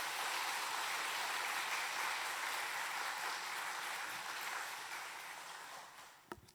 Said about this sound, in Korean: 가능하시다면 격려의 박수 한번 부탁드립니다